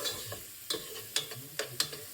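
Garlic sautés in a pan with a soft, steady sizzle, punctuated by four or five sharp scrapes as a utensil stirs it, close and fairly quiet.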